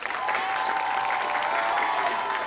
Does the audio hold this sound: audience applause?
yes